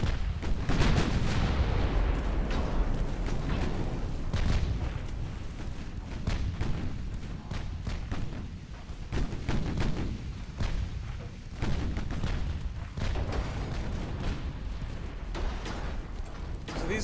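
Naval guns fire high-explosive shells in a dreadnought-era battle in Ultimate Admiral Dreadnoughts, a dense, continuous roar of booming salvos and rumbling impacts that stays loud throughout.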